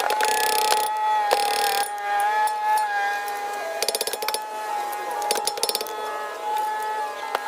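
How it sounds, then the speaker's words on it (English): Ratchet loosening a 19mm brake caliper bolt on a Hyundai Veloster N, with quick bursts of rapid metallic clicking between pauses, close and loud, over a steady mechanical hum. "To remove the caliper, we need to remove this 19mm bolt as well as this one."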